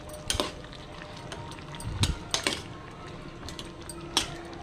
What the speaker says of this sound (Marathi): आणि एकदा हलवून घेणार आहे।